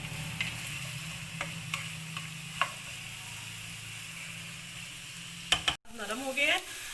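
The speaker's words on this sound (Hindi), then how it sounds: "प्याज को हम 3 to 4 मिनट्स के लिए कुक करेंगे, जब तक ये बिल्कुल सॉफ्ट नहीं हो जाते" Sliced onions softening in a pan for bhindi masala, a quiet steady sizzle with light stirring taps, ending in a brief scrape and clatter.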